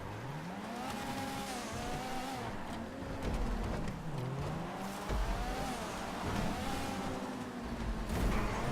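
A race car engine howls through a Los Santos GP rallycross event in GTA V Online. It is close and steady, with the revs climbing and dropping through gear changes and a few sharp jolts along the way.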